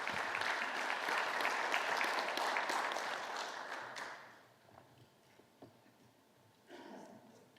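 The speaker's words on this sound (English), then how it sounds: "everyone, please give Raven a round of applause" An audience gives a sustained round of applause at a college business innovation competition as a presenter comes to the stage. The clapping is dense and loud, then drops off sharply, leaving faint room noise and a brief rustle.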